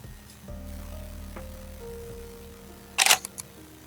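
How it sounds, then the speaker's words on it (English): In a video game, a camera's shutter button is pressed, giving a sharp, quick double click near the end, set against a quiet electronic hum and soft tones. "press the shutter button steadily this time, finally managing to capture the moment"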